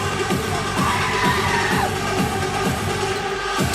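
Basketball arena crowd at an NMSU vs GCU game in 2018, waiting for the opening tip: a loud, continuous roar with rhythmic thumping pulses running through it and no clear voices standing out.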